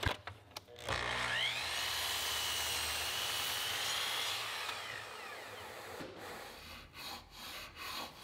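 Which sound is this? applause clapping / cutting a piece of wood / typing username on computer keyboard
cutting a piece of wood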